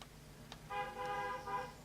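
A car passes outside and gives a short horn honk lasting about a second, faint and distant under steady background noise.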